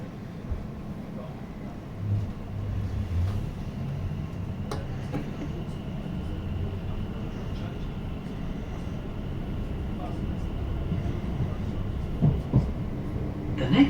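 A Greater Anglia passenger train runs toward Southend Victoria on the line from London Liverpool Street, a steady low rumble and rattle heard from inside the carriage, with occasional clunks and no talk.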